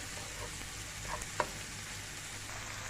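Grated onion frying in hot oil for a smoky chicken tikka karahi, a low, even sizzle with a couple of faint clicks, close and fairly quiet, no talk.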